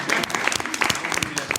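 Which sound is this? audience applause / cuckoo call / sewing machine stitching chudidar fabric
audience applause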